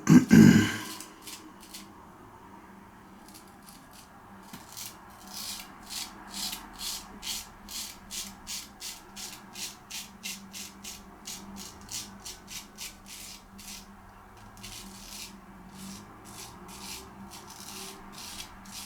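Guillermo Hoppe 14 pattern straight razor shaving stubble, heard close up as a steady run of short, crisp rasping strokes, evenly rhythmic, after a brief louder knock at the start, with no talking.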